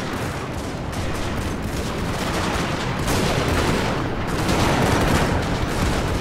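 Soldiers firing guns in the Medieval 2 Steam and Steel mod, a dense, continuous crackle of massed gunfire and booms filling the space, steady and loud throughout with no pauses.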